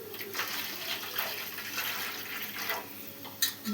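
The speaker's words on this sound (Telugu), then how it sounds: "మనకు కావాల్సినన్ని నీళ్ళు అయితే పోసుకున్నాము." Water pours steadily into a pot of tamarind and black pepper rasam, a close, continuous splashing rush with a brief louder splash near the end.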